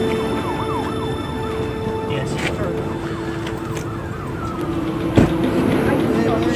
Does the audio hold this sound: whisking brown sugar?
no